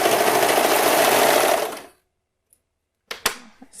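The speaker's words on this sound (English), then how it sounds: "Just letting my serger pull it through nice and evenly." Serger overlocking elastic onto fabric for underwear, a loud steady rapid whirring run that stops abruptly, followed by a few faint clicks and small handling sounds.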